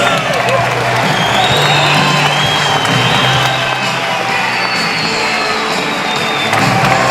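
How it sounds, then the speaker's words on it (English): A boxing arena crowd at a professional heavyweight bout claps and cheers continuously and loudly, with whoops and shouts over a dense roar of applause. "A round of applause, please,"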